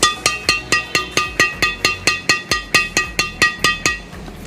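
A Li-Ning badminton string strung at 28 lbs on a Yonex Astrox 77 Play racket, tapped repeatedly: about seventeen crisp, ringing pings at a steady, quick rhythm, close and clear, with no voices.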